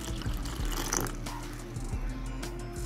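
Water being poured into a bowl of maida flour and salt for a loose dosa batter, a steady continuous splashing pour that runs close and moderately loud throughout with no talking.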